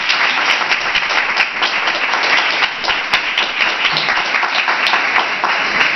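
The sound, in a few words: audience applause for David at a book presentation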